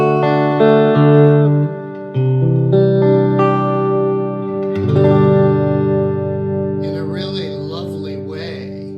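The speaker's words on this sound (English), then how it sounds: "the tremolo effect isn't as overt, it just thickens up your sound." Sustained electric guitar chords through a Fender '68 Custom Vibro Champ Reverb amp ring out with a gentle pulsing tremolo wobble, thick and warm, followed by a few higher plucked notes trailing into reverb.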